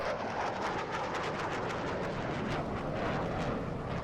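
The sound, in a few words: airplanes flying overhead in the video game Dying Light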